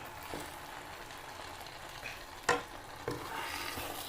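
Fish frying in a pan, being scooped and turned over to cook through, with a steady close sizzle and a couple of sharp utensil clinks as pieces are flipped.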